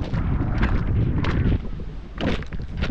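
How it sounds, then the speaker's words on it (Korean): Strong gusty wind at Saebaji Beach on Gadeokdo roars and buffets the microphone in uneven, rumbling bursts, loud and close throughout. "오늘은 예보보다 바람이 조금 더 센 것 같아요."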